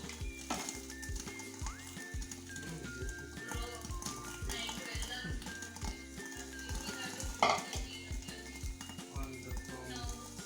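Fish pieces cook in a pan for a mango fish tok, a soft continuous sizzle with rhythmic stirring and scraping, faint and close, with background music.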